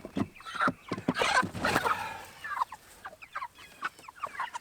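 Chickens crowded into a small chicken tractor cluck and squawk in bursts, close and fairly loud, with short gaps between calls and no talking.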